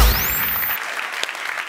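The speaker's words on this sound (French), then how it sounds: "merci pour vos applaudissements" Audience applause at a stand-up comedy show, the Open du Rire in January 2017, a broad steady wash of clapping that holds at an even level throughout.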